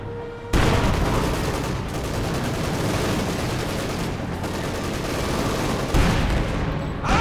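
Sustained machine gun fire in the World War II strategy game Company of Heroes 2, a loud, dense, continuous rattle of rapid bursts filling the whole stretch, with a brief lull just before the final second.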